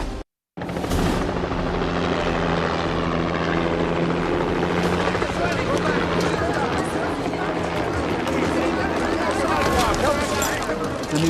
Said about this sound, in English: The news chopper.